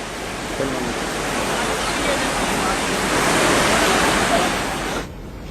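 Floodwater surges with a strong flow beside a damaged bridge, a dense, steady roar of rushing water that stays loud and close before cutting off near the end.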